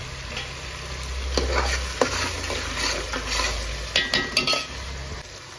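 Ginger-garlic paste and green chili fry with a constant sizzle in a pan as a spoon stirs and scrapes, with a few metallic clinks of utensil on pan near the end.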